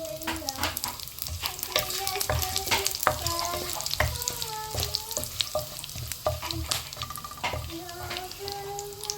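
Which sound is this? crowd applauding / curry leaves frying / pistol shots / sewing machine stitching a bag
curry leaves frying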